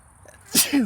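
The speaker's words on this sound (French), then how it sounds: "Atchoum." A single sharp sneeze, close and sudden, bursting out after a faint intake of breath.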